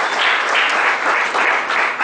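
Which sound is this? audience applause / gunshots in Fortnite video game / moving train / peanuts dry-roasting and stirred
audience applause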